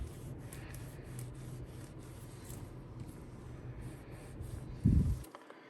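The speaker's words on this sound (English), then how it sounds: "use this microfiber cloth around the edges to remove any extra glue which is formed on the outsides of the screen" Microfiber cloth rubbed around the edges of a Samsung J6 smartphone screen to wipe off excess glue, a soft continuous close rubbing with a short louder handling bump near the end.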